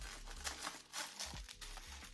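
Close, quiet crinkling and rustling of plastic packaging from a Temu Halloween haul, with a few sharper crackles as it is handled and pulled open.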